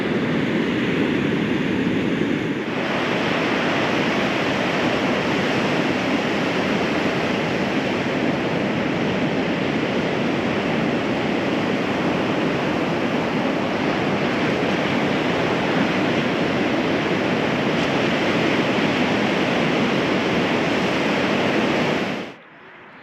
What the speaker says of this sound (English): the waves are just near shore here.